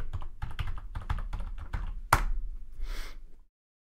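Keys clatter on a computer keyboard in a quick, uneven burst of close taps for about two seconds, followed by a sharper single click and a brief soft rustle before silence.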